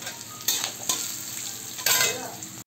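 Chilies hitting hot oil with garlic, mustard seeds, fenugreek and ginger in a home kitchen: a steady sizzle and crackle, with loud bursts of frying as a spoon stirs the pan, close and without talk.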